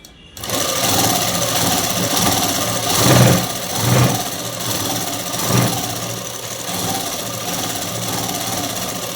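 A sewing machine stitches folded dress cloth in a steady continuous whir, close and fairly loud, with a few brief louder surges as the fabric is fed through.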